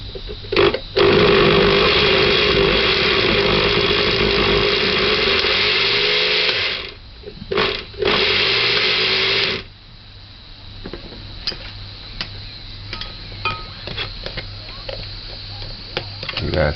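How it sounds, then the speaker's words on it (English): A blender whirs loudly while blending pepperpot soup, a steady motor roar with two brief stops before it shuts off, followed by quieter clicks and handling noises. "Let's blend."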